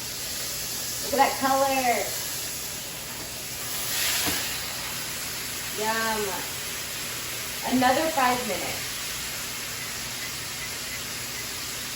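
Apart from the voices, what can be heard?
pot roast sizzling while being seared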